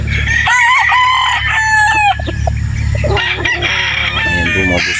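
A bulik gamefowl rooster on a game farm in Batangas crows loudly and close up, with a long drawn call followed by shorter crows and clucks from nearby fowl.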